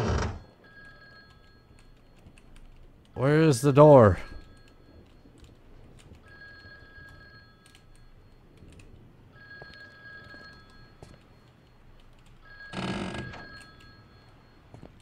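Old telephone ringing inside an abandoned house in a video game, a few separate bursts of bell ring spread over quiet ambience, the loudest burst near the middle, with faint background hum between rings.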